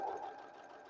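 A sewing machine runs steadily while stitching a fabric cover for a stand mixer, a continuous close whirring hum that starts a little louder and settles to an even drone.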